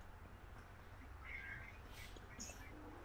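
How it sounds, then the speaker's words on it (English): A pet cat meows faintly indoors during a relaxed online hangout, giving two or three short, soft calls over a low background hum. "Cat, settle down."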